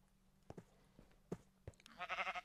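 A sheep bleats in the Minecraft video game, a short quavering call near the end, preceded by a few soft clicks and taps over quiet background.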